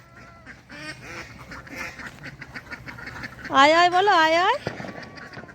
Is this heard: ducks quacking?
yes